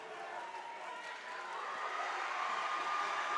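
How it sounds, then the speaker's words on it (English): A gym crowd at a varsity boys basketball game roars steadily and loudly without a break, a broad, sustained wash of cheering voices with no single voice standing out. "Crowd going absolutely crazy right now."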